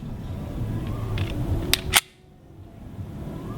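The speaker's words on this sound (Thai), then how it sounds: "เดี๋ยวผมจะโหลดเข้าไปในปืนตัวปืนนะครับ" A magazine snaps into a Ruger SR9C compact pistol with a couple of sharp metallic clicks, close and distinct, followed by near silence.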